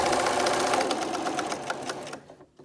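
A sewing machine runs fast and steadily as it top stitches a homemade protective mask, its rapid needle chatter loud and close before slowing and stopping near the end.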